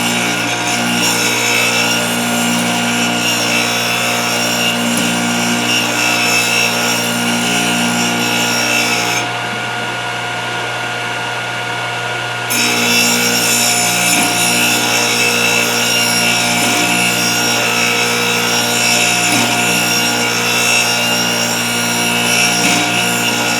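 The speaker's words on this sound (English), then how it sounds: "I'm just going to continue and sharpen up the other 2 flutes" A Thorvie AV-40 sharpening machine grinds the flutes of a router bit, a loud, steady whirring hum with a constant grinding rasp that drops briefly before resuming.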